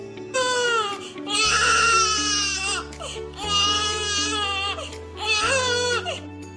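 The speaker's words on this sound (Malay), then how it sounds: "Bayi hanya menangis untuk meluahkan perasaan dan bunyi yang terkeluar daripada mulut bayi cuma terlihat dalam bentuk tangisan" An infant cries in three long wailing bursts separated by short breaths, loud and close, over a steady low instrumental backing.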